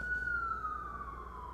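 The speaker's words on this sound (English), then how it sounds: "the sirens was going by." Emergency vehicle siren passing by, a steady wailing tone sliding slowly downward in pitch as it moves away, heard at moderate distance over faint background hum.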